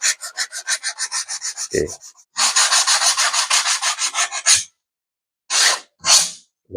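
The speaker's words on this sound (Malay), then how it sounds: "ujung ni saya akan gosok lah bagi dia tak terlalu tajam" Sharp edges of a plywood board used to repair a plastic folding table are sanded by hand in quick rhythmic strokes. A long run of scrapes is followed by a second run, then two short rubs, with one brief spoken word in between.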